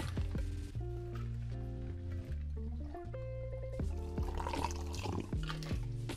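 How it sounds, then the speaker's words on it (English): A cocktail poured back and forth between metal shaker tins over ice, a quiet, gurgling liquid stream with shifting pitch and small splashes and clinks, heard close with no talk. "Pour the drink across, then lower the tin."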